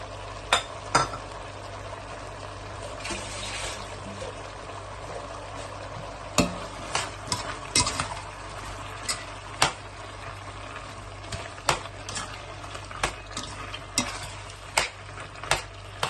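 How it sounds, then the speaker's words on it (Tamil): Curd, tomato and spices being sautéed in a pan for seeraga samba lamb biryani, a low, steady sizzle broken by sharp, repeated clinks and scrapes of a spoon against the pan. "கர்ட் எல்லாத்தையும் போட்டு வதக்க வேண்டியதான்"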